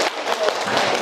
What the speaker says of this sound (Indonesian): Silakan tepuk tangan kita untuk kita semuanya